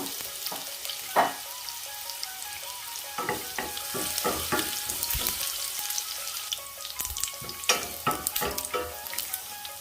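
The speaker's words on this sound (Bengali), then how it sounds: "তেলটা গরম হওয়ার পরে রসুন দিলাই, রসুন একটু বেশি করে দিচ্ছি।" A generous amount of garlic sizzles steadily in hot oil in a pan, with a constant crackling hiss and scattered close utensil clinks and scrapes throughout.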